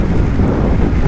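Steady wind roars and buffets the microphone on a BMW F800GS motorcycle riding country roads in the Adelaide Hills on a breezy day, a dense continuous rush with no voices.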